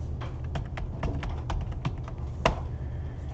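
Rapid keystrokes on a computer keyboard, roughly a dozen light clicks in an uneven typing rhythm, close and clear over a low room hum, with one sharper key strike near the end.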